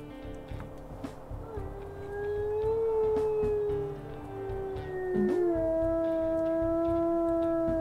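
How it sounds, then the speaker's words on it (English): A deep, sustained wolf howl in the video game WolfQuest, rising and holding steady over a low ambient drone, with a fainter higher tone layered above it. "A bit of a deeper howl there."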